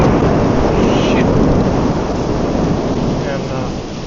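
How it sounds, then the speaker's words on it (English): Heavy rain pours in a dense, loud roar while deep thunder rumbles through it during a storm, the downpour steady throughout and easing only slightly toward the end. "you just go cruising through these storms"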